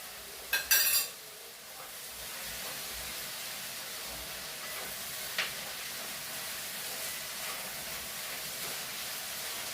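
Ginger garlic paste frying for beef vindaloo, with a steady soft sizzle throughout and brief clinks of a spoon stirring against the pan near the start.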